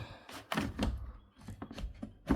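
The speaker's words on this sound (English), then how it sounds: "if I take the drawer out," The plastic wash drawer being pulled out of a Dyson CR01 washing machine, a quick series of close knocks, sliding scrapes and thunks over a couple of seconds, with no talk over it.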